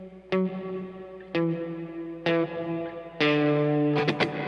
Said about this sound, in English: I'll just strike a note real quick and let you listen to the time between reverb coming in